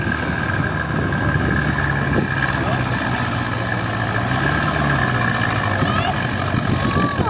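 A tractor engine drones heavily while straining to pull empty Tatra trucks at a tractor-pulling event, holding a steady loud note with a slight rise in pitch midway as the throttle opens.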